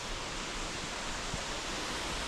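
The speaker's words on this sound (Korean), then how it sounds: "바로 저 녀석이 명지폭포입니다." Roaring rush of falling water from Myeongji waterfall in Gapyeong, a drop of about 10 m with heavy flow, heard as a steady, dense wash of noise throughout without any talk.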